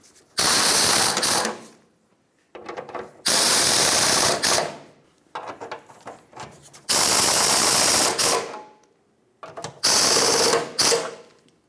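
Rear shield bolts being tightened on a 1996-2002 Toyota 4Runner with a power tool, five loud whirring bursts of ratcheting drive with short pauses between them, close up.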